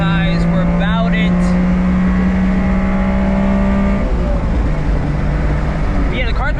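A Honda Beat's small engine revs steadily upward in a droning, rising whine toward redline, then drops off as the revs fall, loud and close from inside the car while driving on a road trip.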